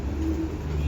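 Pigeons coo softly and steadily in the midday sun during a hot afternoon of pigeon flying, a low, rolling murmur that hums on through the short moment with no voices.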